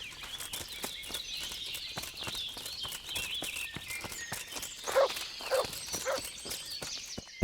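Hooves of a horse in Kingdom Come: Deliverance clop in a steady walking rhythm through the whole stretch, moderately close, with birdsong around and a few louder knocks near the end.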